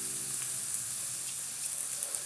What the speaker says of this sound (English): I'm going to sweat off my onion and all of the other beautiful ingredients for our risotto